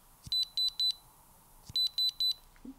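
Two quick bursts of high electronic beeps from a LIMETA EB25 magnetic power bank, three short beeps each, near and clear, separated by a pause, with faint clicks between.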